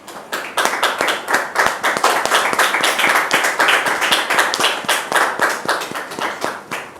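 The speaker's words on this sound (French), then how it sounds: "s'il vous plaît, sous vos applaudissements." Studio audience on a French television talk show applauds a guest's entrance, with steady, dense clapping from many hands held at a loud, even level throughout.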